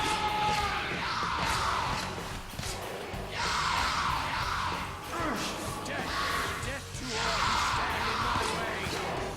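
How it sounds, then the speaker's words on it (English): Enemies in Prince of Persia: Warrior Within scream and yell in repeated loud bursts, separated by short lulls, over game fighting noise and clatter. "then I'd have to listen to them screaming the whole time I go through this area"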